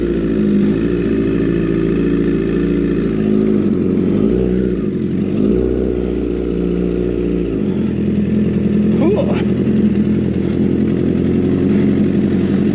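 A Honda CBR 1000 Fireblade sports bike's engine runs close and loud, a deep steady idle with a couple of rising blips of revs partway through, continuous for the whole stretch.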